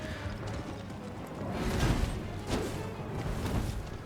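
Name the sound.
horse hooves clip-clopping, from video game Elden Ring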